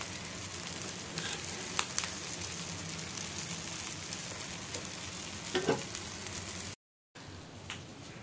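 Shami kebabs fry in a pan with a steady, soft sizzle and crackle, punctuated by a few light clinks and spatters, heard close and alone before a brief dropout.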